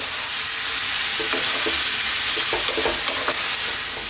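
Salted tomatoes frying in a pan for chana masala are stirred, giving a steady sizzle with soft scraping strokes clustered midway and toward the end, close and alone without any talk.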